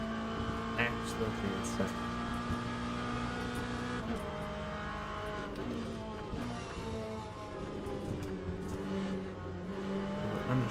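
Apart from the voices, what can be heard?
LM GT3 race car engine in Le Mans Ultimate video game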